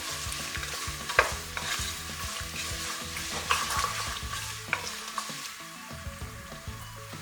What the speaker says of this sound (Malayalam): ഇതിലേക്ക് നമ്മൾ എടുത്തു വച്ചിരിക്കുന്ന ക്യാരറ്റ് ചേർക്കുക. നന്നായി ഇളക്കി കൊടുക്കുക.